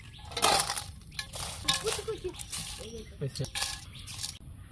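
Rice being washed by hand in a pot for village-style cooking, with wet swishing and light clinks of grains and metal in short bursts, close up, broken by pauses.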